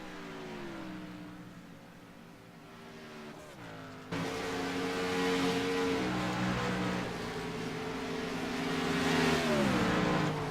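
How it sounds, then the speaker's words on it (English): A race car in a sim racing game accelerates on track, its mid-pitched engine revving and climbing steadily through gear changes, loud and continuous with a sharp jump in intensity partway through. "And you see Marcus coming up on that lap car, the 11."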